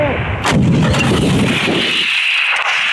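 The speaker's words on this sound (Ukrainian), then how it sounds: "Поруч гатить більш потужна зброя, Д-30. Гармата!" A single heavy D-30 howitzer blast booms close and loud, followed by a rolling echo and reverberation that slowly fades.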